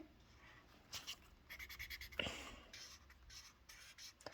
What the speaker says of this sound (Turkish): Ve şimdi boyamaya başlayalım.